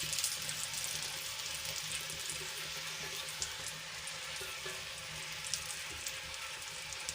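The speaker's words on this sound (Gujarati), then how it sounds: "તો આપણા મરચાં સરસ રીતે ચડી ગયા છે અને સરસ રીતે સંતળાઈ ગયા છે." Stuffed Kathiyawadi green chilies sauté in a pan, making a continuous close hiss and sizzle with a few faint crackles and no voices.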